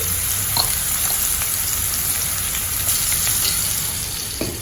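Ingredients for a hotel-style parotta salna sauté in a pan with a pinch of salt, making a loud, continuous close sizzle with a few faint stirring clicks and no talk.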